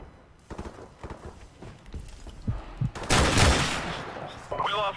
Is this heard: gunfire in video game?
yes